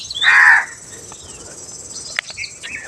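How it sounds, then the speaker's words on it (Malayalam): A single loud, close crow caw rings out against a morning background of continuous insect chirring, followed by fainter bird calls. "കാക്കകളുടെ ശബ്ദമെല്ലാം കേൾക്കാൻ പറ്റും"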